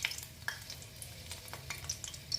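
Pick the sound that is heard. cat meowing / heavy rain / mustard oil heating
mustard oil heating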